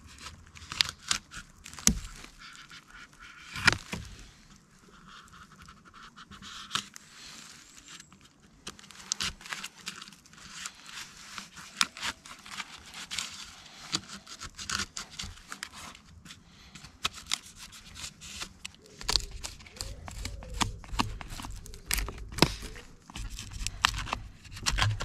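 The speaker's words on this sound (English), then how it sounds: "I had to use a knife to really cut in and slide it underneath and lift it" A knife cuts into and peels bark from a freshly fallen birch tree, giving scattered close scraping, tearing and crackling sounds at an irregular rhythm, fairly faint, with no speech.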